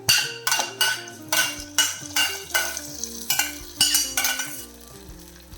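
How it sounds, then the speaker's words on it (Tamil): A spoon stirs ghee tempering into venpongal in a metal pot, making rhythmic scraping and clinking strokes with a soft sizzle, close and loud, with background music tones underneath. "கிளறி விட்டுடலாம் நல்லா கிளறிக்கலாம்"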